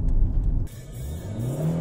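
A Fiat Multipla engine revs hard as the clutch slips, a loud close whir that drops sharply, then settles into a lower rising drone as the car pulls away.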